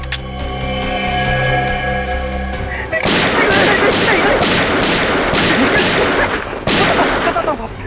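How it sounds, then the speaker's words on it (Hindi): Gunfire in a TV crime drama: a rapid series of loud, sharp shots in quick succession following a tense sustained musical tone, ending with a final heavy burst. "बस 4 गोलियां दाएं पैर में और 4 गोलियां बाएं पैर में ठोक दो"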